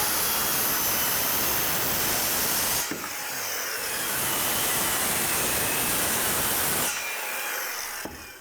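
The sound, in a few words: saw cutting wood studs for door framing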